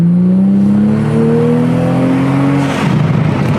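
A Toyota Supra engine with an HKS carbon intake drones and climbs in pitch, then drops off with a brief airy whoosh near the end, like a turbo blow-off valve venting as the throttle lifts.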